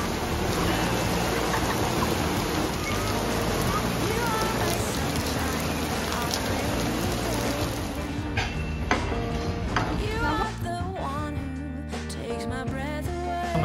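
Outdoor rain that has grown from a drizzle to a heavier fall gives a steady, dense patter throughout, with voices and other sounds joining near the end.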